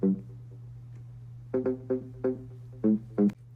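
A house mid bass line driven through Soundtoys Decapitator saturation plays short, punchy gritty notes in a syncopated pattern over a sustained low drone, clean and alone.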